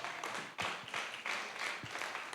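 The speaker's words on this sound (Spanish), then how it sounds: "Dale palmas al Señor." A church congregation clapping hands together in a steady, rhythmic beat, with the claps moderately close and filling the room.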